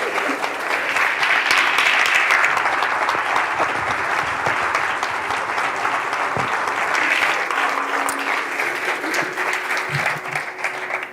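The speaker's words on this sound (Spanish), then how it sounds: "un fuerte aplauso para él" A large audience gives a loud, sustained round of applause that holds steady for the whole stretch and tapers slightly at the end.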